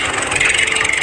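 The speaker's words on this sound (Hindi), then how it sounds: "ट्रैक्टर गांव वालों का खेत जोतता है।" A cartoon tractor engine ploughing a village field, heard as a loud, steady rumbling drone with a gritty, continuous texture and no talking over it.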